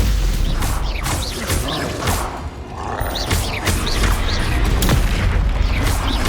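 Confringo fire-blast spells in the Hogwarts Legacy video game, heard as repeated loud booming bursts with whooshing, crackling tails, closely spaced in a busy combat mix with mechanical clanks and roars.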